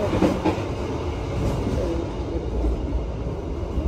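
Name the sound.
train moving at Malang Kota Lama station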